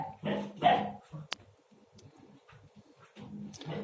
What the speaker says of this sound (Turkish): Bayağı sesler çıkarmaya başladı Noah